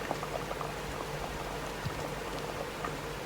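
A pot of southern Thai sour curry with pickled bamboo shoots and sea bass at a steady boil, giving a soft, continuous bubbling and popping that stays fairly quiet throughout.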